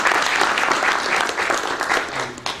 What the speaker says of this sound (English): So I wanted to first give them a round of applause